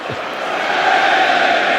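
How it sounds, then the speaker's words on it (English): Cricket crowd at an England v India Test match cheering Hamid's half-century, a broad sustained roar and applause that swells and holds, heard from a distance. "Cheering on the Hamid half-century."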